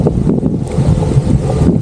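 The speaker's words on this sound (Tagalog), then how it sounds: "Pag may ulan, may hangin talaga." Gusty wind during rain in San Juan, Batangas, buffeting the microphone in loud, uneven low rumbles that swell and ease across the short stretch, with no voices.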